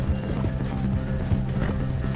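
Horse galloping in the Red Dead Redemption 2 video game, hooves pounding in a quick, steady rhythm, loud and close, with mechanical rattling mixed in.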